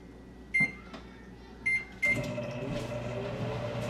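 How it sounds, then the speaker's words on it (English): A microwave oven heating keto bread: two short beeps from the keypad, then a click as it starts and a steady electric hum with rattling turntable whir carrying on to the end. "we're just going to put this in the microwave for 90 seconds"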